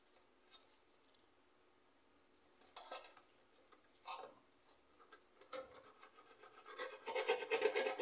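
Rice cooker electrical contacts filed clean with a nail file: intermittent rasping, scraping strokes, close by and growing busier and louder toward the end, with no talking.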